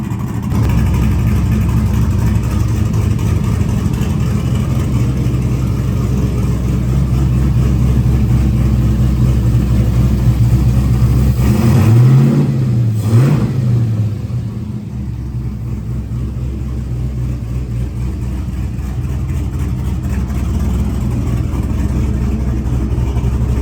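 An LS V8 swapped into a Chevy S10 pickup idles steadily and loudly, then gives a single brief rev that rises and falls before settling back to a rough idle.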